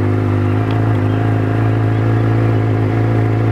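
Suzuki GSX-R motorcycle engine running with a steady, even idle hum that holds at a constant level, close by and alone.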